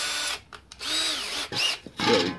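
A power drill bores through metal on a makeshift welding repair, its motor whining in a few short, close bursts separated by brief pauses.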